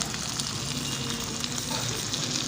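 Sesame seeds hitting hot oil and soft cooked eggplant in a spiced masala, Hyderabadi baghare baingan style, giving a steady, close frying sizzle that stays even throughout, with no talking.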